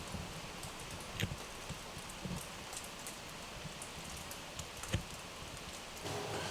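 Steady rain falls outside a garage, a soft and even hiss with a few scattered, slightly louder drips and taps, faint and continuous, with no talking.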